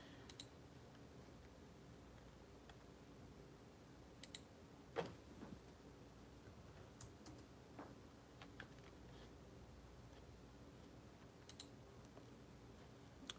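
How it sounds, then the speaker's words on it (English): Sparse, light computer mouse clicks tick through a quiet room, single sharp taps spaced irregularly with a soft background hum and no talking. "Y'all hear my mouse clicking?"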